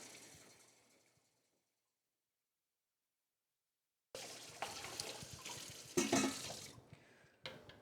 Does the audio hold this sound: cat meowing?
no